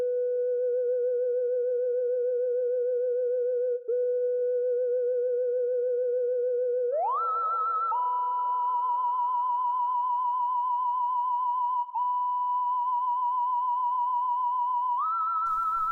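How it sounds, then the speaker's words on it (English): A pure, sine-like whistle lead synth tone from the Xenology plugin in a dark trap beat, holding long smooth notes that glide up to higher pitches. It is alone, clean and steady, with a brief dropout near the middle. "This is the whistle lead from Xenology, and it sounds like this."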